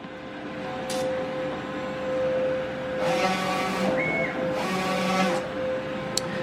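A commercial DTF printer runs a nozzle check, its print head carriage sweeping back and forth in two long passes over a steady motor hum, with short mechanical clicks and a brief whine, close and fairly loud.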